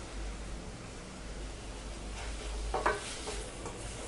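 Manathakkali greens dusted with sambar powder sauté in a pan with a soft, faint steady sizzle, a few brief stirring scrapes rising near the end; no voices.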